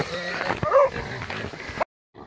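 Hunting dogs in a pack during a wild boar hunt, giving excited yips, whimpers and barks that overlap and come close, mixed with a voice, before a sudden cut to silence.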